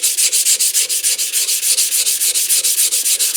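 Fine-grit sandpaper rubbed back and forth across a steel hammer head for leathercraft, a steady rhythmic rasping of about six strokes per second, close and loud with no talk.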